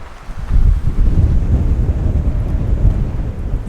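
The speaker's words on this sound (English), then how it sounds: "The wind is crazy." Strong wind gusts roar across an open canyon overlook at Holt Canyon, a steady buffeting rush that swells loud and holds throughout, with heavy low rumbling on the microphone and no one speaking.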